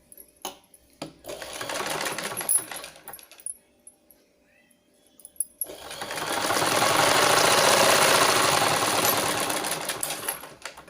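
Domestic sewing machine stitching a blouse with lining fabric, first in short stop-start bursts, then one long continuous run at close range, with no talk over it.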